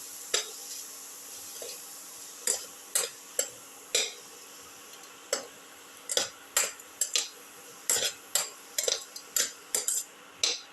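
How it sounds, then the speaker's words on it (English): A metal spoon clinks and scrapes against a pan while tomato pieces are sautéed and stirred for a chicken, potato and rice soup casserole: a steady run of sharp, irregular taps close by over a faint background hiss, with no talking. "Mix in the tomato pieces thoroughly with the rest of the mixture. Keep on sauteing."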